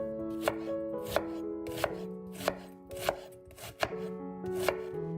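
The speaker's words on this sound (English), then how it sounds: "While it's heating, finely chop a large onion." Knife chopping a large onion finely on a cutting board, sharp regular thuds about every half second to second, close and clear with no talking.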